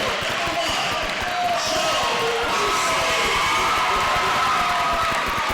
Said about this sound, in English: Pretty good crowd on hand here tonight for the championship game.